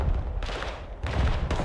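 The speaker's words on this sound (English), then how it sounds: "Oh, they got artillery now." Artillery fire in the war game Broken Arrow, a string of heavy, booming blasts arriving in bursts and rolling out one after another, with no voices over them.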